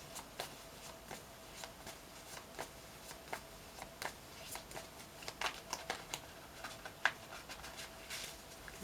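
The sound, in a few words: shuffling tarot cards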